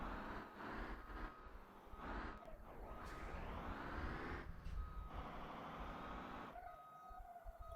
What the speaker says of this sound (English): I can't tell whether the beeping reverse sound is in real life or in the game.